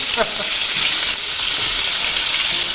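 Loud, steady sizzling of mushrooms frying in a pan, with a few scraping stirs near the start.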